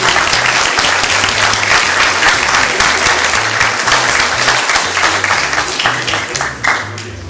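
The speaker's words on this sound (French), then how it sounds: "Je vous demande de l'applaudir vivement." Loud, lively audience applause for a volunteer at an award ceremony honoring volunteers and athletes, sustained clapping throughout with a low musical tone underneath.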